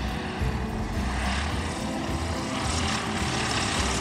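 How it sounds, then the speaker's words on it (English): A propeller plane lands at an airfield, its engine a steady, loud drone with a broad rumble that holds evenly throughout, heard alone. "But another plane landing."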